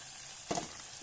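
Onions sizzling in a pan for chana dal curry, a steady close frying hiss with a brief stir-like burst midway, with no talk.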